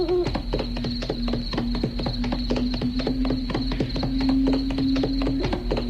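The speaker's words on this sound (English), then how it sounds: "he urged his old horse to go a little faster" An old horse's hooves clip-clopping at a steady, fairly quick pace through woods at night, close and distinct over a sustained tonal background drone.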